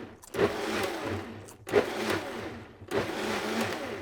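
A kitchen blender pulses pico de gallo ingredients in three short bursts of whirring and chopping, each about a second long and separated by brief pauses. It is close and moderately loud, with no talking.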